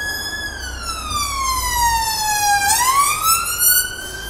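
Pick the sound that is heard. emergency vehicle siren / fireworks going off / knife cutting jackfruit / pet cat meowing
emergency vehicle siren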